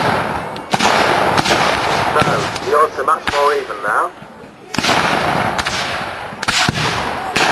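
Musket volleys and cannon fire from a 2006 Civil War reenactment skirmish at Cliveden, with Confederate troops deployed in line alongside a cannon. Sharp, loud bangs go off at irregular intervals, and someone speaks between the shots.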